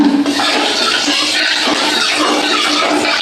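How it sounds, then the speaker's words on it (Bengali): Cumin seeds hit hot oil left over from frying fish, giving a loud, continuous hiss and crackle of sizzling that stays close and steady throughout with no voices over it. "এবার এই তেলের মধ্যে আমি বন্ধুরা জিরে ফোড়ন দিয়ে দিলাম"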